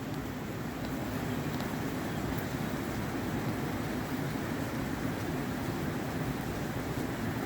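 Rain-swollen waterfalls tumble down the steep walls of Doubtful Sound fiord in Fiordland, a continuous broad roar that stays steady and fairly distant.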